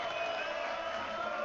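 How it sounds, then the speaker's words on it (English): An esports crowd at a Red Bull Wololo Age of Empires final roars for a hometown player, a continuous dense mix of cheering and whoops filling the arena. "You've got an adoring crowd behind you, my friend."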